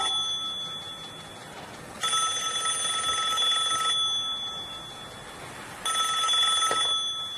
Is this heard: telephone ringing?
yes